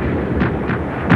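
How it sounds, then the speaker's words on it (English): Russian artillery and machine guns firing on a flat trajectory during a river crossing in the Battle of Berlin, with a few dull booming blasts spaced apart over a steady rumbling background. "Russian artillery and machine guns, firing on a flat trajectory, blazed all the while"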